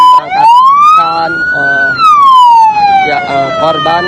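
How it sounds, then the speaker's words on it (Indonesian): An ambulance siren wails loud and close with a slowly rising and falling tone, while a voice talks over it. "kendaraan ambulan bersama tim medis akan memberangkatkan"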